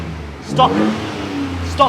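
A 2023 Ford Ranger Raptor V6 pickup engine rumbles up close and revs in two short bursts, with a low idle between them.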